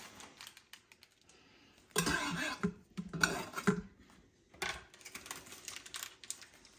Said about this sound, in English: So I'm just going to cut this up on here to keep my cutting board clean.